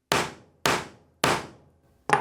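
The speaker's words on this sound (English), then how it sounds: "we can give it a couple more taps with our hammer." Three sharp, evenly spaced hammer taps on wood ring out close by, followed by the start of a fourth, with quiet gaps between.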